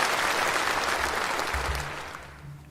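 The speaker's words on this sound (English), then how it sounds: "please approve it with a round of applause" Delegates at the CPPCC annual session, a formal political assembly in a large hall, break into a round of applause, a dense, steady roll of clapping that gradually fades out over a few seconds.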